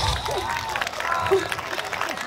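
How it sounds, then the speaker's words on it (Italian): A group of children clapping for themselves after a guided movement exercise, the applause fairly close and mixed with voices and a brief vocal sound partway through. "Lo facciamo un applauso?"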